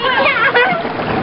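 A toddler splashes water with her hands in a kiddie pool at Bear Lake, giving a few quick, close watery slaps over a short moment, with bright voices and chatter mixed in.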